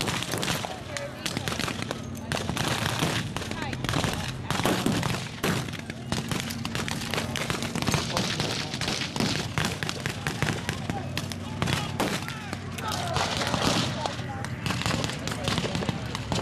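Dense, continuous rifle and machine-gun fire from a World War II reenactment battle during a German counterattack, sharp overlapping shots crackling nonstop with voices shouting faintly underneath.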